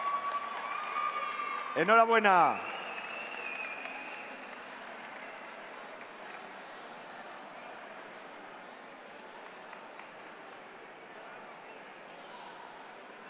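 An audience gives soft, distant applause for prize winners at the Robocampeones 2015 robotics contest. A brief bright tone sounds early on, then the clapping settles into a low, sustained patter under a voice that speaks briefly.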